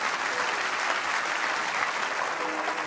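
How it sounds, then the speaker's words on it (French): A church congregation bursts into sustained, dense applause, loud and even throughout, with no voices standing out. "Encourage-le, acclame le Seigneur"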